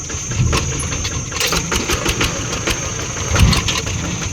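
A small 12-horsepower tractor diesel engine idles nearby with a steady low chug, punctuated by repeated sharp knocks and clanks.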